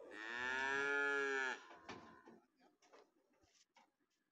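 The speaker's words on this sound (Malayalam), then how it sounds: "രണ്ട് ലോഡ് പോത്തുകുട്ടികളും എരുമകളും വന്നിട്ടുണ്ട്" Buffalo calves and buffaloes at a cattle market: one long, loud, close moo lasting about a second and a half, then quieter scattered market noises.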